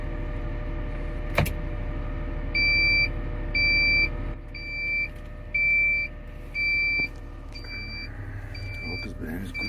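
A car's reverse gear warning gives a steady series of short, high electronic beeps in evenly spaced pairs. They sound from inside the cabin over a low engine hum, with brief voices in the background.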